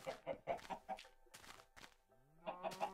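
Repeated chicken clucks from a farming video game, a rapid series of short pulses at the start and a second burst near the end, with a gap holding a tonal squawk, close and fairly loud with no talk.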